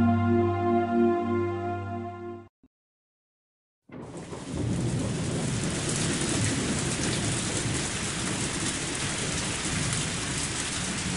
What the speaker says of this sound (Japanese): 急にすごい雨が。